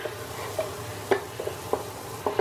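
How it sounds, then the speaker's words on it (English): Onions sautéing in a pan give a soft, steady sizzle with a few sharp clicks and scrapes from stirring spaced through the brief stretch, close and moderately quiet, with no talking. "And we're just going to saute them for a couple of minutes, just so they're a little bit translucent"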